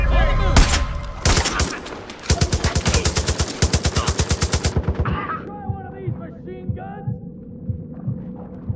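Rapid automatic gunfire from the video game Far Cry 5 rattles in a loud, steady burst after a couple of single heavy shots, then gives way to quieter game sounds and a low hum.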